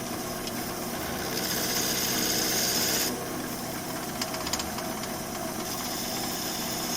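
A woodturning lathe spins at 400 RPM while a wooden frame for stained glass art is turned. A continuous motor hum runs under a steady scraping rasp of the tool cutting the wood, close and even, with no talking.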